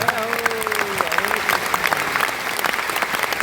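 Loud audience clapping at a live mimicry artist's show, dense sustained applause from a crowd with a voice trailing off briefly under it at the start.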